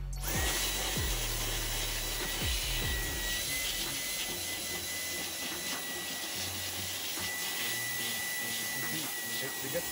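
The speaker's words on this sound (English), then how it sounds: "So I have the vacuum all the way on high." A vacuum cleaner running on its highest setting roars loudly and continuously throughout, a dense steady whine with a few low thumps near the start.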